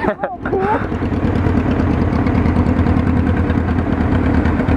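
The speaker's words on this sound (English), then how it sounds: "My bike's idling so low." A motorcycle engine idles low and steady with a rumbling pulse throughout, after a brief burst of laughter and voice at the start.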